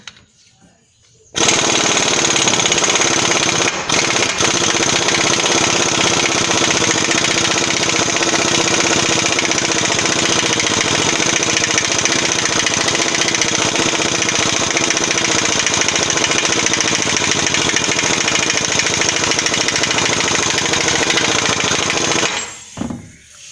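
A power tool hammers steadily at the front CV axle nut of a Ford 500, a loud, close, continuous rattling impact that runs for about twenty seconds before cutting off.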